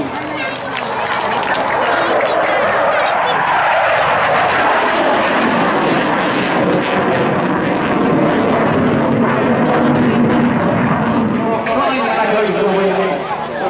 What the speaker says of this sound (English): The RAF Typhoon display pilot, Flight Lieutenant Royce, send it away